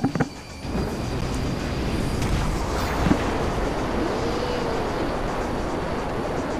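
Engine roar of an airplane in the video game GTA V Online, a steady loud broadband drone running throughout with a brief thump near the start.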